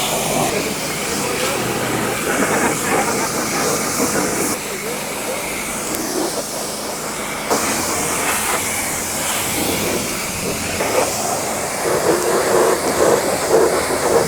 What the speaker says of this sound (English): want to go ahead and rinse the actual undercarriage and then rinse the wheels